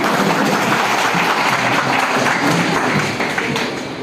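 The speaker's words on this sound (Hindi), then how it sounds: "इस दीदी के लिए जोरदार ताली हो जाए" Loud, dense applause from a women's self-help group meeting in Katihar, a steady wash of many hands clapping close by that thins slightly toward the end.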